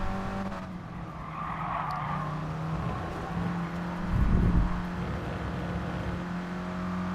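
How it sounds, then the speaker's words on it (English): Mini race cars brake under a bridge with tyres pushed to the limit, a steady engine drone under a brief rising squeal and rumble midway, loud and close. "as he brakes under the bridge, pushing those tyres to braking point there"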